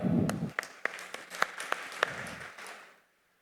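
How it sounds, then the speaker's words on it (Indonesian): Scattered clapping from a small audience at a community investment trading event, individual claps standing out at irregular intervals over a murmur and a short bit of voice at the start, fading out to silence. "tepuk tangan untuk kita semua ya"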